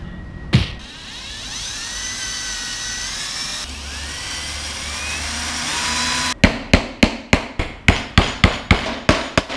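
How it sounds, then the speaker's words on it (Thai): Hammer blows strike wood while building a DIY fingerboard park rail, a rapid series of about a dozen sharp, close knocks in a steady rhythm, after one isolated bang and a stretch of quieter background rumble. "จากนั้นก็ตอกไม้ตรงนี้"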